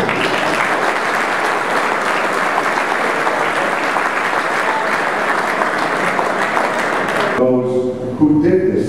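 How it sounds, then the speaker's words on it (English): An audience at a Michigan amateur golf championship event at Boyne Highlands claps in sustained, dense applause that fills most of the clip, then breaks off as a voice begins speaking. "So let's give a nice round of applause to Mr. Steve Courtney."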